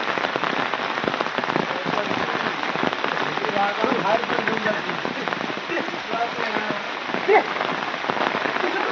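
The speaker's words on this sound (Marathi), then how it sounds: "पाऊस पण भरपूर" Heavy rain pours steadily over a Konkan farm field where new bullocks are being trained to plough, a dense, continuous hiss at constant loudness for the whole stretch.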